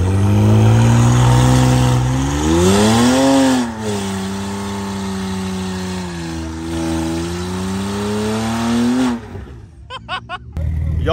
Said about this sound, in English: Y'all just saw the bison do a burnout.